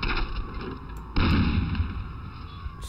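In the video game Medal of Honor Allied Assault Breakthrough, at the Battle of Gela, a heavy tank cannon boom hits, followed by a second blast about a second later, each leaving a sustained rumbling roar with steady tones.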